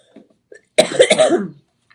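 A single hoarse cough rings out close by after near silence, preceded by a few faint small sounds.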